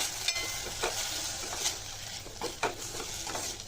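Bottle gourd (kaddu) frying in ghee in a pan, a soft steady sizzle broken by a few sharp spatula scrapes and stirs, close and fairly quiet.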